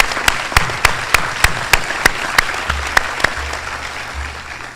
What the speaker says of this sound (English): A round of applause for Kiara